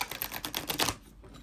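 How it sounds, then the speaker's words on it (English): A rapid series of soft papery clicks and flutters, an oracle card deck being overhand shuffled close up, stopping abruptly near the end. "I'm just going to put them together and just overhand shuffle it"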